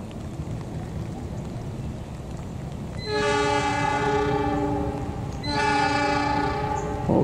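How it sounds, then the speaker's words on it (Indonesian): The Argo Wilis passenger train sounds its horn twice in long, steady blasts over a continuous rumble of rolling wheels as it passes straight through a single-track station, fairly loud and nearby. "persiapan melintas langsung kereta api Argo Wilis dari Surabaya tujuan Bandung"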